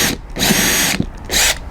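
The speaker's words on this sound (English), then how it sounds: "just drill a small pilot hole in there" A power drill bores a pilot hole with a 2.5 mm bit for an outdoor pizza oven build: two loud close whirring bursts, each about half a second or more, separated by a short pause.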